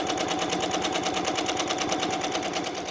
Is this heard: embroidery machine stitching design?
yes